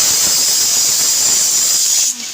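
Meat being sautéed (kosha) in a pan gives a loud, steady close hiss of sizzling that cuts off abruptly near the end.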